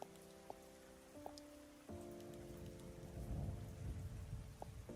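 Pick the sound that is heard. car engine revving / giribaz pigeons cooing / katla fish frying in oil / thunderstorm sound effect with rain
thunderstorm sound effect with rain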